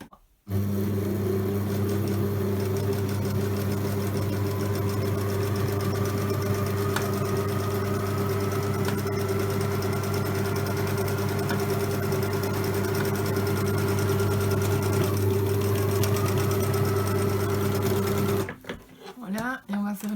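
An electric sewing machine stitches two layers of fabric together for a homemade face mask, running in one long steady burst close by before stopping near the end, with a few handling sounds after.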